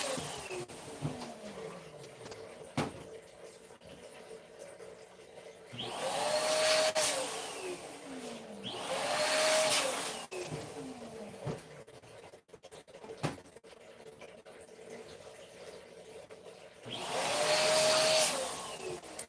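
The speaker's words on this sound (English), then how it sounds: "My neighbors are blowing balloons. It's the machine you're hearing." A balloon inflating machine's motor drones in the background and swells into loud whooshing bursts of air several times, with quieter humming stretches in between.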